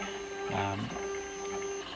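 A 3D printer with a hot end at 220 degrees runs with a continuous whirring motor hum and steady tonal whine, its pitch shifting briefly in the middle as the head moves.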